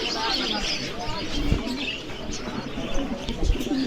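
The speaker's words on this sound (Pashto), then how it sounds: "دا کوترې دي" Pigeons coo and chirp at a busy bird market in Kabul. The calls are close and repeated over a noisy background, with people talking nearby.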